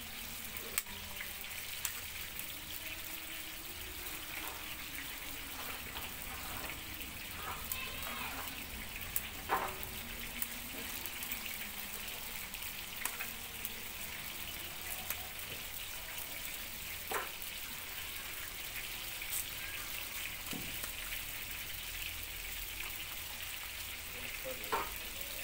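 Peppers frying in a pan over an outdoor wood fire, a steady sizzle with scattered pops and crackles running throughout at moderate level, faint distant voices now and then.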